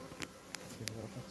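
Honeybees buzz around the wall of a hi-tech municipal beehive, a faint, steady hum broken by a few brief, brighter passes of insects flying close by.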